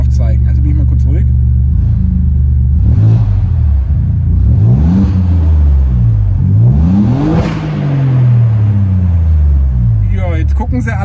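Inside a 2020 Alfa Romeo Giulia GTAm with 540 PS in race mode, the engine is loud and close, revving up repeatedly in rising sweeps, with gear changes and a deep rumble between pulls.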